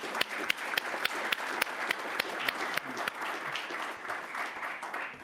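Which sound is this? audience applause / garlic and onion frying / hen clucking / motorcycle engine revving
audience applause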